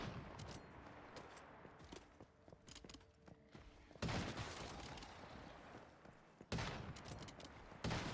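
Gunfire in the video game Once Human: dense, rapid bursts of automatic fire, loud and close, with a sustained volley around the middle and another near the end, separated by quieter stretches of scattered shots.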